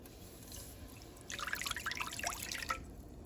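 Water poured from a cup into a cooking pan of stewed fish with vegetables, a short splashing trickle lasting about a second and a half, near and moderately quiet.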